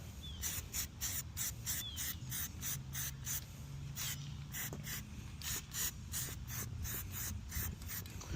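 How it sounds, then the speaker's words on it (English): Repeated short hissing bursts of Krylon Fusion Gloss Hot Pink aerosol spray paint, fairly close, in an uneven stop-start rhythm over a low background hum. "I wanted to share that I'm spray painting down"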